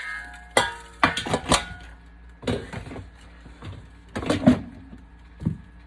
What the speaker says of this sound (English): once you have got them nice and crispy, you're going to transfer them back to your original pot